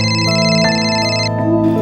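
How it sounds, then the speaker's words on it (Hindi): A phone ringtone plays a bright electronic melody of repeating tones, loud and close, with no talking over it. "लो, शरद का फोन है,"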